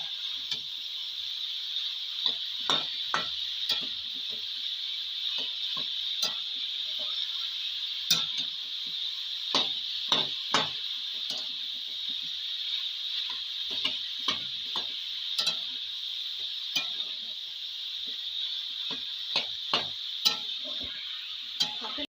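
Cauliflower singara filling sautéed dry in a pan, a steady sizzle running throughout with repeated sharp scraping and tapping strokes of a spoon stirring, close and moderately loud.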